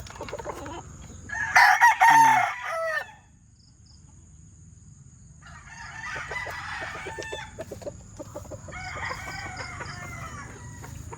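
Fighting roosters (stags), including a white-legged bulik, crow loudly and close in one burst, then cluck and crow more softly in two later stretches over a quiet farmyard background.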